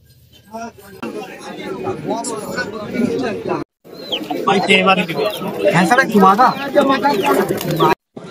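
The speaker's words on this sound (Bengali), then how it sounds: "এখান থেকে পায়রা শুরু হচ্ছে।" Pigeons at the Galiff Street pet market in Kolkata coo and call in low, soft bursts beneath someone talking close by, amid street market bustle.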